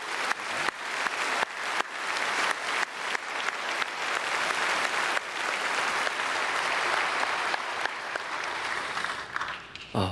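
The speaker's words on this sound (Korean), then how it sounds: "우리 박수로 목사님 축복하겠습니다" A Sunday worship congregation at Myungsung Church applauds to bless the senior pastor. The clapping is loud and sustained, a few sharp claps starting a dense crowd roar that holds steady for about ten seconds before tapering off.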